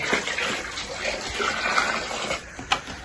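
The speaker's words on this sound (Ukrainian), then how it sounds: "Так, налью води." Water pours and gushes steadily into a container outdoors on a cold winter day at a rabbit enclosure, a close rushing splash with a brief knock near the end.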